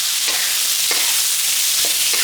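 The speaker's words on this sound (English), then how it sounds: "Give that a little stir fry again." Cucumbers stir-fried in a hot wok after salt, white pepper and Chinese rice wine go in: a steady bright sizzle throughout, with four or five periodic scraping stirs of the spatula against the wok.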